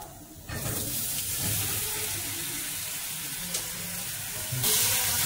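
Cut potatoes drop into hot oil with whole cumin, bay leaf and chilli, setting off a steady crackling sizzle that swells louder near the end.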